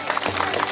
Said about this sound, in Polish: Wielkie brawa dla Laury!